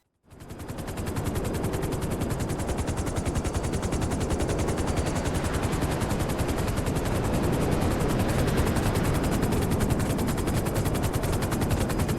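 Loud, continuous rapid thumping of helicopter rotors in GTA 5 video game, a fast steady pulse that never lets up.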